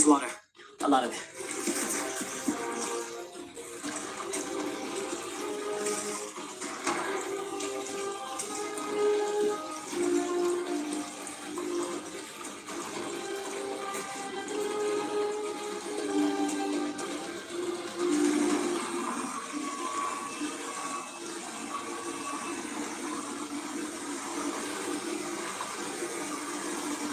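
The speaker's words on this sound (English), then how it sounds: "I think it's water." Rushing water in a video game: a continuous, full broadband roar that holds steady for nearly half a minute, with a faint tonal layer running underneath.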